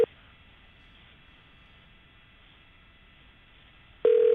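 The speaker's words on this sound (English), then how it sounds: "Now it's ringing." Outgoing telephone call ringing tone heard over the line: a steady, faint electronic ring sustained for about four seconds, ending with a brief louder burst.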